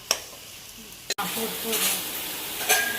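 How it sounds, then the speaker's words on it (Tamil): Onions sautéing with rock salt in a pan for chicken curry, a steady sizzle with a sharp utensil knock and scraping stirs against the pan, close and clear. "வெங்காயம் நல்லா வதங்கிறதுக்கு கொஞ்சமாக கல்லுப்பு சேர்த்து நல்லா கிண்டி விட்டுடலாம்."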